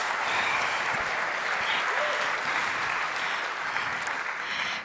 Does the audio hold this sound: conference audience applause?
yes